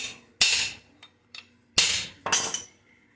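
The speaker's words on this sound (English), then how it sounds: "really hit with a hammer" A hammer strikes a 1957 Chevy rear axle, with several sharp metallic blows in irregular rhythm, close and loud, with faint taps between the heavier hits.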